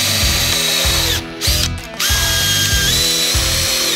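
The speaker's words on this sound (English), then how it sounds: "I finally managed to keep the screw on the drill" A power drill driving a screw into countersunk wood in a workshop, its motor whirring loud and close in long bursts with a brief pause and a short ratcheting dip midway.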